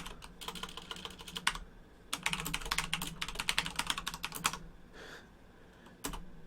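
Rapid clacking keystrokes on a loud gaming keyboard, close and crisp, typed in quick bursts separated by short pauses, with a final lone clack after a gap.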